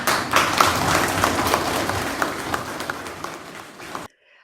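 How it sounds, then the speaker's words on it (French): A small group applauds participants in a webinar, scattered uneven clapping that thins out before cutting off abruptly. "monsieur le directeur, je les applaudis encore."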